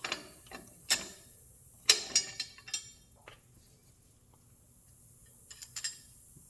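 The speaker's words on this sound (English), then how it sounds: "The thing with U-bolts is you need to make sure you tighten them down evenly." A hand ratchet clicks in short bursts while tightening 9/16 U-bolt lock nuts on a first-generation truck's dual steering stabilizer, with sharp ticks in clusters and quiet pauses between, close and fairly soft.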